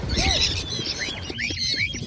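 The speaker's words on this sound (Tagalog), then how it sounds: "Pinakawala natin mga ibon natin dito sa pinaglabanan shrine" Birds are set loose at the Pinaglabanan shrine, giving bright chirps and squawks over a busy outdoor background with no talking.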